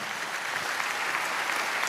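A church congregation claps during a sermon, a brief, even spell of continuous applause filling the room.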